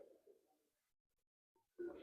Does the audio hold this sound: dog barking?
no